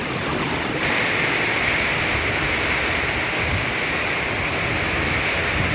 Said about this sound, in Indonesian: Keras sekali hujannya.